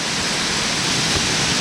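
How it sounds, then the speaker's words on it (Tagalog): Rushing water from Anyap Falls at a campsite in Tanay, Rizal pours in a steady, loud, broadband roar close by, unbroken and without speech. "Pero ang ganda stay dito kasi yan ang maririnig mo, oh. Nagaslas ng tubig."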